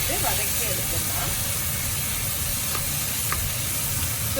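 Onions and chillies sauté in oil in a pan for Mannar-style crab curry. A continuous hissing sizzle runs under a person talking.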